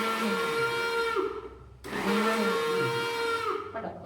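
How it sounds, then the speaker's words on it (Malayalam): A kitchen mixer grinder whirs loudly while blending onion and chilli chutney with salt and water, running in two close bursts split by a short pause. "കണ്ടോ എൻ്റെ മിക്സിയുടെ ഒരു സൗണ്ട് കേട്ടോ"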